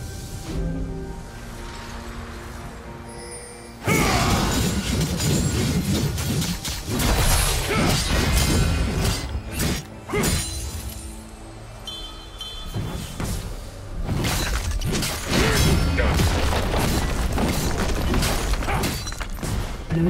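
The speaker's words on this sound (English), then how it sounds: "Blue team's turret has been destroyed." A League of Legends turret collapses under attack, heavy crashing booms and mechanical clanks with whooshing impacts rolling through a busy stretch of game noise, loud and near.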